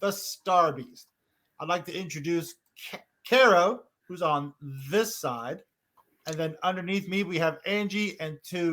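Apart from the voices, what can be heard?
No distinct noise like a dog, phone or traffic.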